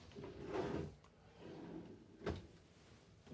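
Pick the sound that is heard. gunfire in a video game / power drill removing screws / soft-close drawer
soft-close drawer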